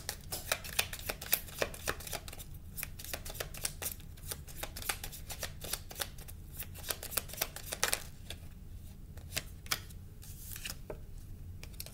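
Tarot cards being shuffled and drawn, a continuous close patter of quick riffling flicks and soft card slaps with a few sharper snaps, quiet and without voices.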